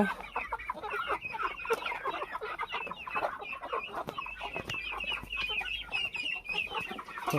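Several Peruvidai chickens clucking continuously, overlapping bursts of chatter at close range with occasional sharper squawks, no voices.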